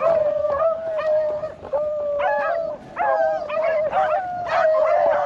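Beagles baying while chasing a rabbit across a pasture, a pack giving repeated drawn-out howling bays and yips that overlap and pause, fairly close and loud.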